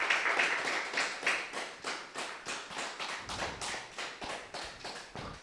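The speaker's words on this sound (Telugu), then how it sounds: "ఒకసారి ధ్యానాన్ని గట్టిగా చప్పట్లు కొడదాం." A group claps loudly and steadily at the end of a guided meditation session, a fast, even run of hand claps that carries on without pause and with no voices heard over it.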